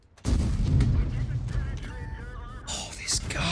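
A tank gun in World of Tanks fires with a sudden heavy boom that rolls into a long rumbling decay, and a voice talks over the tail end.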